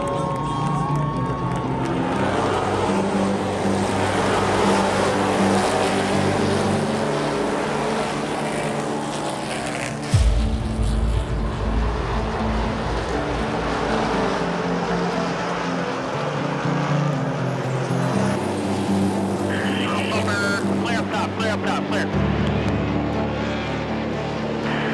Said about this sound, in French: Le départ de cette 3e course NASCAR Pinty's 2022 est prêt à être lancé.